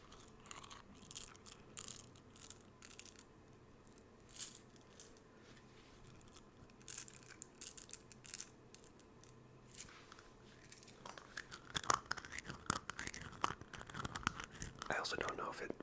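Dry macaroni noodles being picked up and handled up close, giving soft irregular crunchy clicks and rattles like small bites, with faint whispering, growing busier and louder toward the end.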